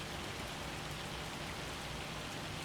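Steady rain pours in Farming Simulator 25 on PS5 as a dense, unbroken hiss of drops falling on surfaces, even in loudness throughout with no voices.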